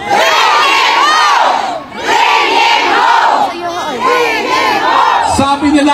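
A large crowd at a political rally in the Philippines roars a chant in three long, loud collective shouts, each rising and falling with brief gaps between them.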